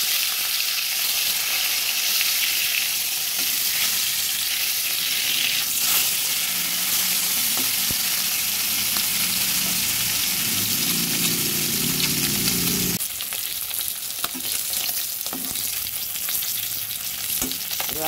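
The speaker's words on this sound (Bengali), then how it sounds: "মাছগুলো এবার একটা করে উল্টে দেবো।" Katla fish pieces sizzle loudly in hot oil in a pan as they are turned one by one, with a steady crackling fry and occasional scraping clinks of the spatula, no voices.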